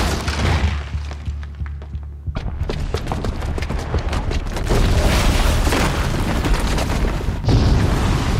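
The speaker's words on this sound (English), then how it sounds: "the booby trap on the bomb downstairs is gonna get set off" A bomb booby trap going off in Horizon Zero Dawn: a heavy rumbling boom followed by crashing, shattering debris and a sustained loud roar of falling rubble.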